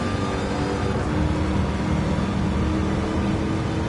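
A supercharged car engine in a racing video game holds a steady, loud droning roar throughout, with no clear rev peaks, as a continuous engine drone without talk.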